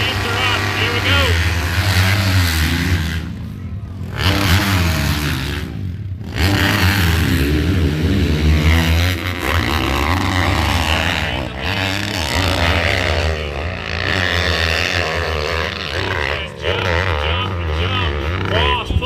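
Side-by-side vehicle engines rev hard throughout a hill climb race, a loud continuous roar with rising and falling pitch, under a commentator's voice over a public address.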